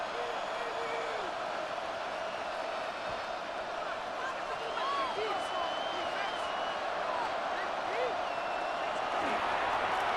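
A stadium crowd in the American football video game Madden 26 keeps up a constant, distant roar with scattered whistles and cheers, running steadily under commentary.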